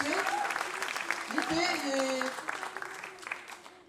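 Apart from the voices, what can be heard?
concert audience applauding the students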